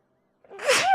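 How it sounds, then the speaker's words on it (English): A single close sneeze bursts out after a brief silence, rising from a short intake into a loud, breathy explosion that tails off at the end. "Oh, hold on, I gotta sneeze."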